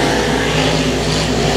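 Race cars roaring around the track during a heat race at Boyd Raceway, a loud, steady engine drone filling the whole stretch with no break or pause.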